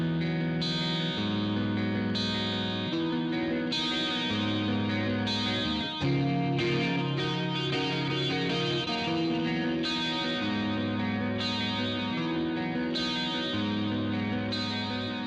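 A Heritage Les Paul-style electric guitar played through a Super Lead amp gives a heavily distorted tone, sustained power chords and riffs ringing out loud and continuous, with a chorus-like shimmer and no voices.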